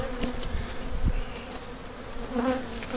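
Honey bees buzz close and continuously during a hive removal under an elevated house in Ansley, Mississippi, a dense steady drone with individual bees swelling louder as they pass near.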